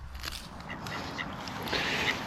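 Ducks quack outdoors by a lake, several short calls in quick succession over a breezy background, fairly close.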